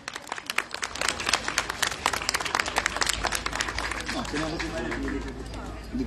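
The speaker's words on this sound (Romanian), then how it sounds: "Aplauze!" A crowd claps and applauds at an award ceremony for the fruit section of an orchard-growing event, as dense, close applause that starts strong and thins out over a few seconds.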